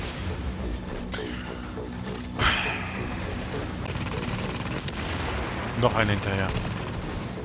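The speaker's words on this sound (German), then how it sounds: "Die sind alle auf den Turm schießen." Gunfire in the video game The Division, with scattered shots and bursts over a dense battle background and a couple of sharper, louder hits, while players talk over it.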